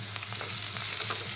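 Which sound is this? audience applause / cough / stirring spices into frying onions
stirring spices into frying onions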